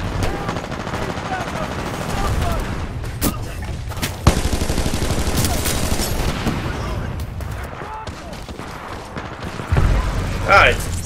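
Rapid SMG gunfire in the shooter game Titanfall 2, sustained bursts of automatic fire with a few louder shots standing out, dense and close throughout with a voice talking over it.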